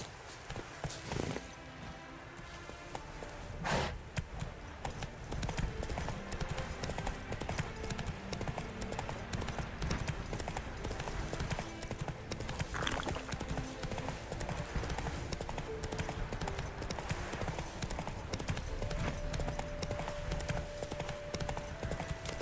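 Steady clip-clop of Roach, the horse in The Witcher 3, walking and trotting over ground for a long stretch, hooves close and continuous, with a brief whinny and game ambience layered beneath.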